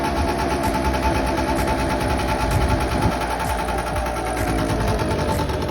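2005 Vespa LX50 two-stroke scooter engine, just after a carburettor clean, running close with a buzzy, rattling tone, a slight rev near the middle, then settling to a steady idle.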